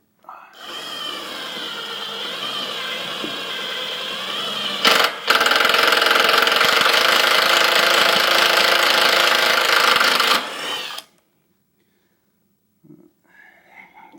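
A power drill bores a pilot hole in metal for mounting the intercooler of an RP 3.8 turbo kit, running loud and steady with a short break midway, then stopping, followed by faint clicks.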